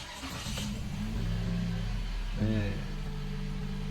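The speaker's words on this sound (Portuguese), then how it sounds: "vamos ligar o carro aqui" A car engine turning over and settling into a steady idle, with a low rumble and a brief rise in revs partway through, close by, while someone talks over it.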